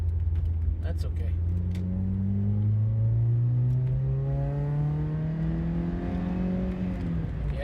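A 1987 Toyota Corolla FX16 with a 4A-GE engine runs without a muffler, its raw exhaust droning loudly and climbing steadily in pitch as the car accelerates, with a rattling edge in the exhaust.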